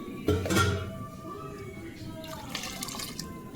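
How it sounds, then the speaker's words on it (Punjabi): A short splashing pour of water into a pot of carrot kadhi near the start, followed by a quieter trickle and faint kitchen noise. "ਮਤਲਬ ਇਹ ਪਾਣੀ ਹੋਰ ਪਾ ਰਹੇ ਨੇ"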